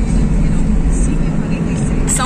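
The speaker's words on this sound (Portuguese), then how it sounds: "Muda até o barulho do carro na estrada." A car cruises along a highway in São Paulo, filling the cabin with a loud, steady low rumble of road and engine noise that continues without a break.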